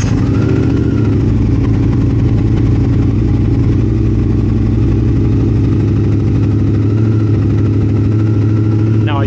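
A 2022 Triumph Speed Twin motorcycle with its O2 sensors and secondary air injection removed settles into a steady, loud, close idle with a constant low rumble throughout.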